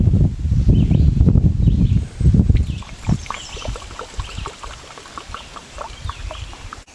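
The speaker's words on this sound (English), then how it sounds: "So I'll just use this smaller funnel then and fill it with this Citronella oil." Citronella oil is poured through a small funnel into a bourbon bottle. Loud glugging and splashing lasts about two seconds, then fades to faint trickles and small drips.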